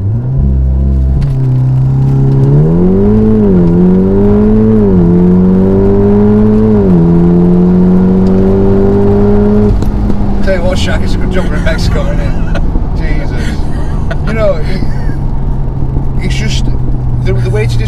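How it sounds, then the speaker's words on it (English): A Stage 3 Volkswagen Golf R of 522 bhp revving with ESC off for a launch, its engine note climbing and dipping in stepped pulls, then a long, loud drone settling lower as it accelerates away, a voice speaking over it. "We're doing a bit of a launch here, so ESC is off, foot down on the brake"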